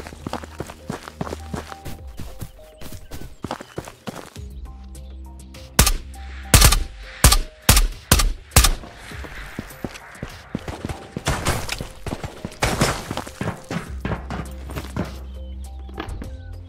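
Bursts of gunfire in the video game Ghost of Tabor: a rapid series of loud, sharp shots clustered in the middle, with scattered quieter shots and footstep-like thuds before and after.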